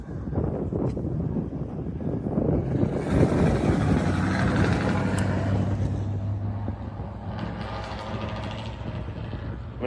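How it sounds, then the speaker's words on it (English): Strong wind buffets the microphone outdoors near a ballpark at dusk, a loud continuous rumbling roar with gusts that swell midway and ease off toward the end. "It is very windy out here."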